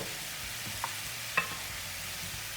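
Chanterelle mushrooms cooking in a pan: a soft, steady sizzle with a couple of brief clinks from a utensil partway through, heard close and with no one speaking.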